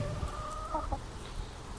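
Hen clucking on a pig farm, several short close calls in a loose uneven rhythm over low barnyard background noise, with no talk.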